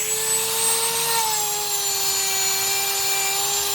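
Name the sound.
scrubbing metal off a Royal Enfield Himalayan side stand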